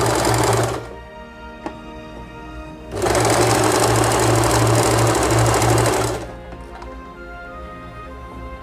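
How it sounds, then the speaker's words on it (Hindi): An Usha Janome sewing machine runs a straight stitch in two close, loud bursts of rapid mechanical chatter, separated by a few seconds of near quiet with a light tap. "अब आप इसको नीचे तक सिलाई लगा सकते हो।"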